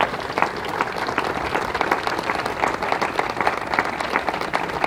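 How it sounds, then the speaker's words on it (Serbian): An audience at the opening ceremony of the Serbian Pavilion in Venice in 2014 gives sustained, dense applause. The steady clapping holds throughout, with only faint crowd murmur beneath it. "Molim vas jedan aplauz za naše pojedinačne velike talente."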